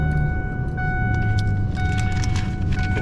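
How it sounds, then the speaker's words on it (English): A truck engine idles steadily while warming up, a constant close rumble with faint metallic jingling and light clicks on top, no voices. "let the truck warm up for a second here"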